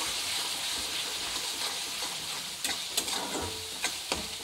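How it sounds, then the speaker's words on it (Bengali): Turmeric, chilli and other spices frying in hot oil under a steady sizzle and hiss, with a few sharp scraping stirs of a spatula near the end; no voices. "যতক্ষণ মশলা থেকে তেল ছেড়ে দেয় ততক্ষণ আমি ভালো করে কষিয়ে নেব।"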